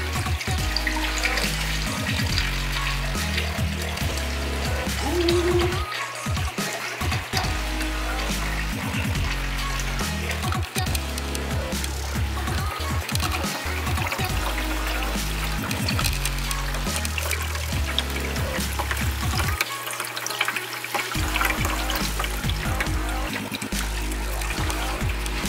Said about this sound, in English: let's turn our pump on and get it wet.